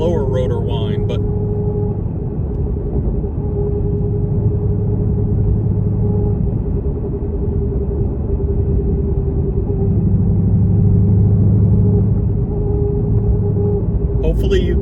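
A Ford Mustang S650 with a supercharger cruises in a high gear under steady engine and road rumble, with a faint constant blower rotor whine beneath it.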